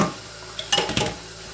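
Sweet potato leaves being washed in water: a few light splashes and soft knocks against a bowl, brief and fairly quiet, with no talk.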